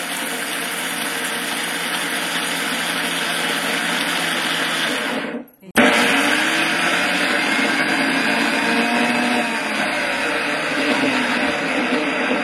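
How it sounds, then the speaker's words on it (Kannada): Kitchen mixer grinder running continuously on roasted spices and tamarind for a Mangalore-style chicken sukka masala, a loud steady whirring drone that stops briefly midway and then restarts at full power. "ಮೊದಲು ಹುಣಸೆಹಣ್ಣು ಜೊತೆಗೆ ನಾವು ಹುರಿದಿರೋಂಥ ಪದಾರ್ಥನ ಮಿಕ್ಸಿಗೆ ಹಾಕೋಣ"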